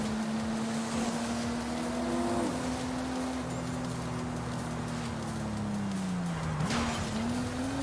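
A car's engine in Forza Horizon 5 holds a steady droning note, with tires scrubbing as the handbrake is pulled into a drift, the pitch sagging then rising again near the end, loud and close throughout.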